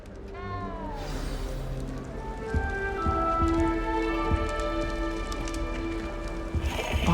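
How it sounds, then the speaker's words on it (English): A frightened little cat meows repeatedly in the video game Hogwarts Legacy, a series of rising and falling cries over steady rain-like background sound and game ambience. "You don't need to be frightened, little cat."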